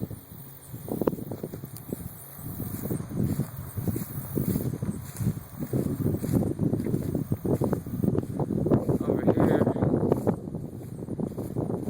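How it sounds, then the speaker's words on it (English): Gusty wind blows across an open yard beside a pond, a rough steady rumble buffeting the microphone throughout while someone speaks briefly over it. "it's getting kind of windy"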